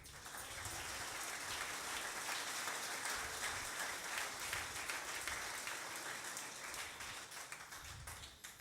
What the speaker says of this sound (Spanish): Dele una ofrenda de aplauso al Señor